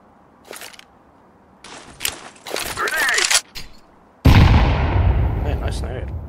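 Counter-Strike 2 match with scattered gunshots and then a loud grenade blast that rings out and decays, close and punchy, with other game noises between the bursts.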